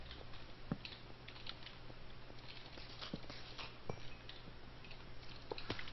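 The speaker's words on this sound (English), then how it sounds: "Oh, that's pleasant. It's just raining." Rain falls in a video game as a faint, steady patter with scattered soft ticks and drops throughout, quiet and unbroken.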